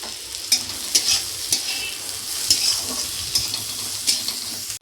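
Carrot and capsicum are stir-fried for chow mein in a pan. A constant close sizzle carries rhythmic scraping stirs and light spatula knocks every half second or so, with no talking.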